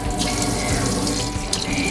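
Water gushes steadily from a newly fitted tap into a sink in a camper van conversion, a loud, continuous splashing rush up close with no talk.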